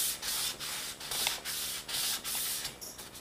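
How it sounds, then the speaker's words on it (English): Hand sanding a bare wooden paddle with 180-grit sandpaper: rhythmic back-and-forth scratchy strokes, about six close, steady rubbing passes with brief pauses between. "keep sanding away, guys."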